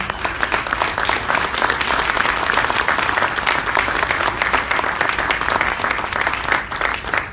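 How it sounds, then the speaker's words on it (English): Sustained applause from a conference audience in Puerto Rico, dense steady clapping filling the whole stretch at a fairly loud, even level with no talk over it. "And I want to ask you for a big round of applause for our friends, Jeff and Rob and the staff."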